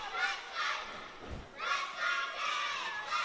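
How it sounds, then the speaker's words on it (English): Crowd at a netball game between USC Thunder and USQ Jets, a broad distant cheer and chatter of spectators swelling in waves, with a single dull thump midway. "I'm loving this crowd at the Yes."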